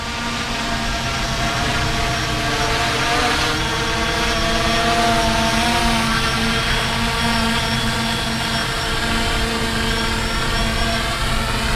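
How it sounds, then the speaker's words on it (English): A Fimi X8 SE camera drone buzzes overhead with a steady, high whining rotor drone, loud and constant throughout, with no talking. "And here comes the drone."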